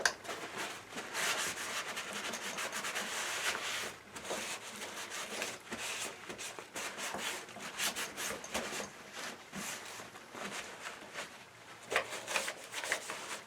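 Towels rubbed hard over a grimy Poulan Wood Shark chainsaw part, giving a steady, close scrubbing rasp in continuous strokes with brief pauses, no talking.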